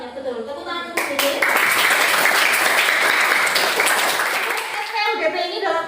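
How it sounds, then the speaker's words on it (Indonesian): Classroom applause from pupils during a teaching lesson, dense clapping filling the room for several seconds with children's voices mixed in, rising sharply and then fading near the end. "Tepuk tangan untuk ini"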